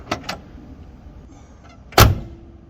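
A classic car's door shuts with one solid, heavy thud close by, after a couple of lighter clicks and a faint mechanical whir.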